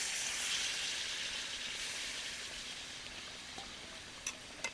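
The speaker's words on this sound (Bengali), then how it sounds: "এবার আমরা যে মাটনের মশলা ধোয়া যে জলটা সেই জলটাই দিয়ে দিচ্ছি" Hot mutton curry in a pot hisses loudly as water used to wash the spices is poured in. The hiss is steady and slowly fades, with a couple of small clicks at the end.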